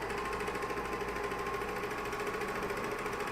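A serger or coverstitch sewing machine stitches underwear fabric with elastic, giving a steady, fast, even mechanical whir with rapid needle chatter that runs continuously at moderate level.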